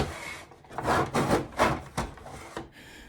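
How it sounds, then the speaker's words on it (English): Back saw cutting wood in a miter box, a few rasping back-and-forth strokes in an uneven rhythm, close and moderately loud with no talk. "it's a saw that cuts backwards. So it's called a back saw, which basically cuts on the back stroke"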